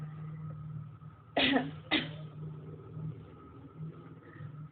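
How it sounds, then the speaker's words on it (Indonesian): Two sharp coughs from a woman in quick succession, close by, over a steady low engine-like hum and faint background noise. "Maaf ya nak, Ibu batuk."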